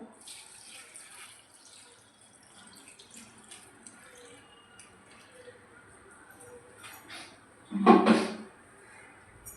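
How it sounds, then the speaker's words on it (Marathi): A short splash of water being poured over kurdai to soak near the end, after a quiet stretch of faint background noise. "पाणी टाकून घ्यायचं"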